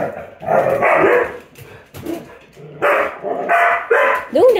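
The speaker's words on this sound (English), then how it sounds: "no barking" A German Shepherd barks repeatedly in short bursts, close and loud, mixed with yips and a brief whine while a person talks over it.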